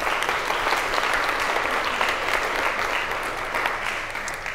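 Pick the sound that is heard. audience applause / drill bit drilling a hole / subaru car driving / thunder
audience applause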